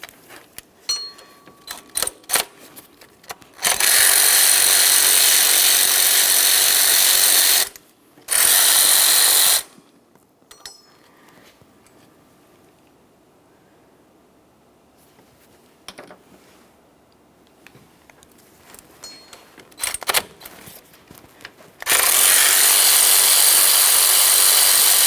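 Power ratchet or impact tool spinning out power steering pump mounting bolts on a 2007-2017 Jeep Patriot, several loud sustained whirring bursts separated by quieter clinks and handling noise.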